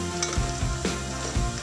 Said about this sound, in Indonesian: ini kita goreng sampai kering kecoklatan ya